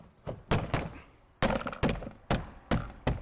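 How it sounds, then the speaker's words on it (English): Plastic door card clips on a Seat Cordoba being banged into place by hand, a series of about seven sharp hollow thumps at uneven intervals, close and loud, with no talk. "Bang them clips on."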